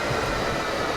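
A London Underground 2009 Stock train on the Victoria Line in Open.BVE, driven by hand, runs with a steady, loud rolling rumble and a broad hiss that barely changes throughout.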